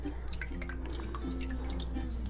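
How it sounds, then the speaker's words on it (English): Water drips from squeezed wet hair, a series of small, close, irregular droplet plinks over a low steady background hum. "Take it out, squeeze the water,"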